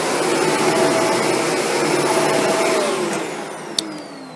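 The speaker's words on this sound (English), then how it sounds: "You have an upright, so you can go ahead and do your upright cleaning with this vacuum." A Shark Apex upright vacuum cleaner runs with a loud, steady whining drone that eases slightly toward the end, marked by one sharp click near the close.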